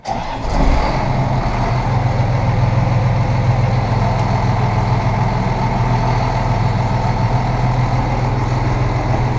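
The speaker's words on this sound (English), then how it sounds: "I should probably turn it on and make sure the PTO fucking works." Tractor engine running with the PTO engaged, a loud, steady low rumble that starts abruptly and holds at an even level throughout, with no talking.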